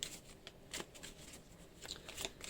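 Tarot cards being handled and shuffled as one last card is drawn, a soft run of papery riffles and flicks, fairly faint and close, with no talking.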